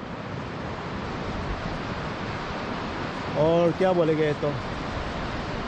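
The Siang river rushes below Pongging View Point near Pasighat, a broad, steady roar of water close by, with someone talking briefly over it.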